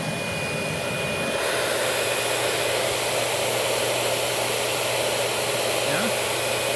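A Proteam 1500 XP vacuum cleaner runs steadily through a suction test, a loud, continuous broadband whoosh with a constant motor hum held for the whole stretch.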